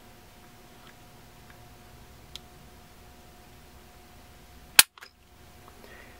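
A Glock 26 pistol trigger breaks with a single sharp, near click while being pulled with a Lyman trigger gauge, after a faint tick in a quiet room.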